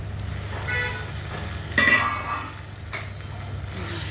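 Dal bhaji with softened tomato sautéing in a pan, a close steady sizzle under a spatula scraping and stirring, with a sharper scrape midway.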